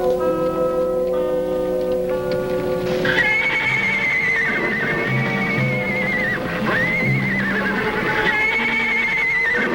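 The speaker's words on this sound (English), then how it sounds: "Indian ponies in the corral." Indian ponies in a ranch corral neigh and whinny repeatedly over a background of steady music, the calls loud and close with rising and falling pitch.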